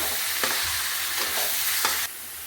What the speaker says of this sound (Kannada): ಹಾಕಿ ಚೆನ್ನಾಗಿ ಫ್ರೈ ಮಾಡ್ಕೊಳ್ಳೋಣ.